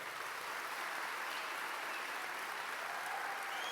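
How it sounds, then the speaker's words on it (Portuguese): Steady, dense applause from a church congregation fills the room at moderate distance, an even wash of many hands clapping with no breaks and no voices on top. "Vamos aplaudir ao Senhor."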